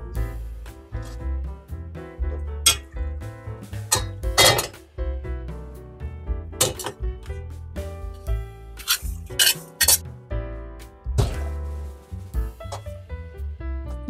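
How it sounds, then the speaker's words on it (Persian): Spoon clinking and scraping in a pot while eggplant is stirred together with kashk and fried onion, irregular metallic knocks and rubbing strokes, close and fairly loud, with no talking. "اینا رو با هم مخلوط میکنیم."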